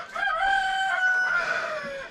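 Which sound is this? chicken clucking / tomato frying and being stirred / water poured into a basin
chicken clucking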